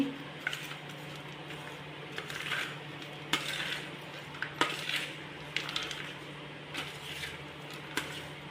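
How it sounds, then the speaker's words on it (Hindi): A spoon mixes pounded coriander panjiri with sugar in a bowl for a Janmashtami offering, making repeated close scraping and light clinking strokes in a steady rhythm over a low background hum, with no voices. "अब मैं इन सबको अच्छे से मिक्स करूँगी।"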